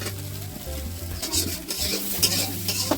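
Fish being sautéed with oil, salt and turmeric in a wok, sizzling with a spatula stirring and scraping against the metal, close and continuous over a few seconds.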